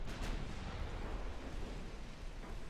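Heavy 12-inch naval guns firing in the naval battle game Ultimate Admiral Dreadnoughts, a steady deep rumbling roar of shellfire that holds loud across the whole moment with no talk.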